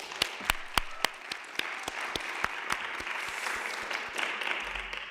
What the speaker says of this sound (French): On peut vraiment les applaudir